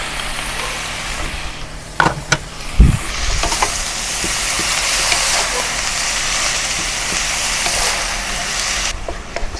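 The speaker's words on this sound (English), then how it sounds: "Now add the drained bean sprout into the wok." Bean sprouts hit a hot wok with garlic and tofu, giving a steady close sizzle with a few clanks and stirring knocks near the start.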